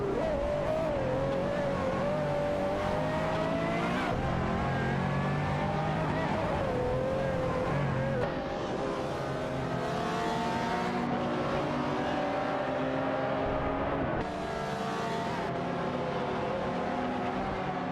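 Race cars in a racing video game roar continuously with engines revving and shifting pitch as they accelerate, a steady loud drone with brief tonal changes throughout.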